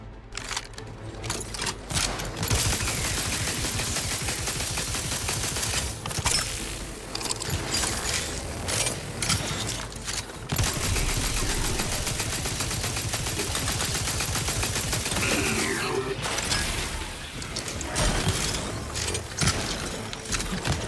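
Sniper gunfire in the video game Outer Worlds 2: dense, continuous shooting and clattering combat noise that runs almost without pause, broken by a few brief lulls.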